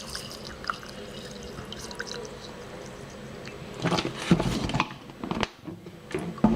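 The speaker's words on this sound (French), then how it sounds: "Je vais rajouter donc l'eau." Water poured into a glass holding chia seeds: after a quiet stretch, a close, splashy pour gurgles and trickles for a couple of seconds, with small clinks and drips as it ends.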